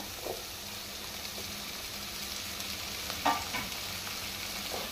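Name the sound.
chopped tomatoes added to frying onions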